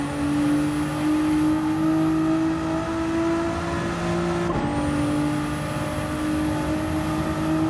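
A race car engine held at full throttle in a sim racing game, a loud steady high whine with one brief dip and gear change partway through, with no talk over it.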